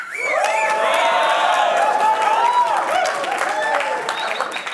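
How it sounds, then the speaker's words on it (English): An audience in a clapping exercise breaks into loud crowd noise with cheering, whoops and mixed voices, sustained for several seconds before tapering slightly. "People were clapping"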